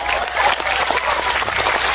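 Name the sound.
audience clapping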